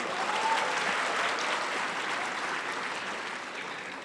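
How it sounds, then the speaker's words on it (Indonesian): Loud, steady applause from a large audience at a conference speech, continuous clapping filling the whole stretch and tapering slightly at the end. "Tepuk tangan dulu untuk Pak Dino Patijalal."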